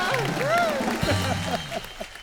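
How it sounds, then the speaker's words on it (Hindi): Applause from an audience with cheering and a few raised voices, fairly loud and continuous for a couple of seconds. "जोरदार तालियां"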